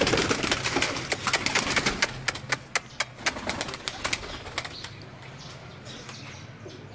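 Pigeons from a fancier's collection being handled, with rapid bursts of wing flapping and clattering up close, then quieter soft cooing as the flurry dies away.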